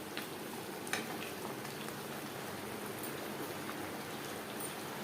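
Chicken and potato curry cooks on a high-medium flame, giving off a steady, faint sizzle and bubbling crackle with no talk throughout.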